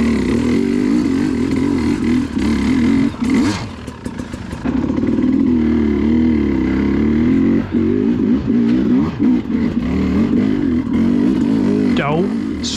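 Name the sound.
enduro dirt bikes revving on a hill climb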